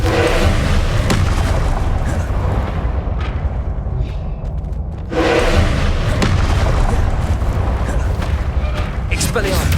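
The Confringo blasting spell in Hogwarts Legacy goes off in a series of heavy booming explosions, loud and close, with a brief quieter lull in the middle before the blasts resume.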